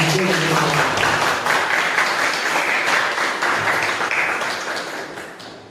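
Classroom students break into a dense burst of applause, many hands clapping together close by and gradually fading toward the end.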